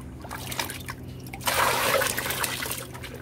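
Homemade fertilizer water poured from a container onto a potted lemon plant, a close trickling and splashing stream that swells midway and runs steadily to the end, with no talk.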